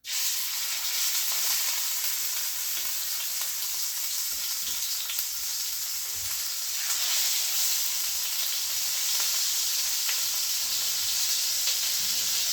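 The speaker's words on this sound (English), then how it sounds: "we're gonna cook this with the skin side up first for about 5 minutes, 4 to 5 minutes. And I got the olive oil cooking hot" Salmon fillets cook skin side up in hot olive oil in a pan, giving a steady, close, continuous hiss and sizzle with faint crackles throughout, no talking.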